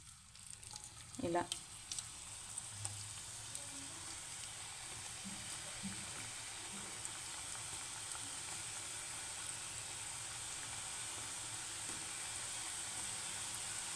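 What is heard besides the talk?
deep frying cashew pakodi in hot oil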